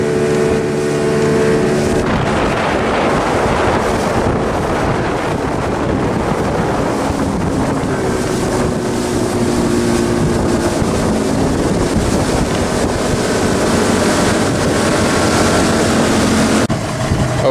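A Boston Whaler motorboat running on a river, its engine droning steadily under heavy wind buffeting and water rush, loud and continuous with no talk.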